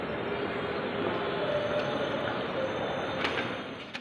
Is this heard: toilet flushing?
no